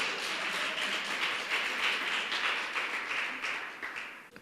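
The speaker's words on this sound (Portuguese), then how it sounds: "Você pode aplaudir o Senhor?" Church congregation applauding, a steady wash of many hands clapping at moderate distance, sustained evenly and tapering slightly at the end.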